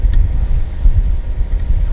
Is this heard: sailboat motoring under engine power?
yes